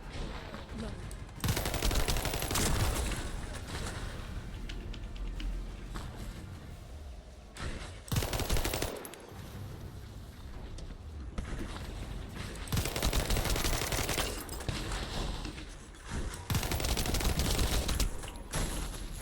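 Enemy trackers firing frost bombs in The First Descendant, amid dense continuous rapid gunfire and bursts of combat noise that stay loud throughout, with a brief lull midway and voice faintly mixed in.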